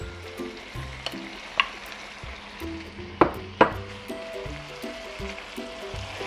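A sausage, actually a hotdog, sizzles in a pan for creamy chicken pastel: a soft, steady frying crackle with a few sharp clicks and pops from the pan, fairly quiet and close.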